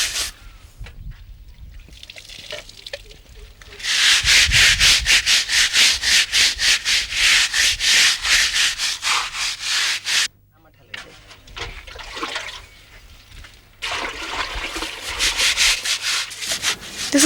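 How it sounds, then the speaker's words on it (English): Vigorous manual rubbing on a stone wall to work up a soap-like lather, a rapid rhythmic scrubbing in long bursts with short pauses between, close and fairly loud, with brief talk around it. "rubbing vigorously, a soap-like lather is obtained"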